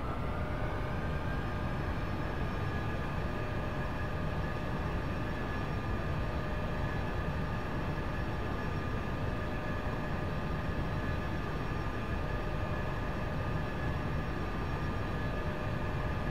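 Aerobask Epic Victory light jet engine in X-Plane, a steady, loud, continuous whine with a sustained high tone and broadband roar, no talking.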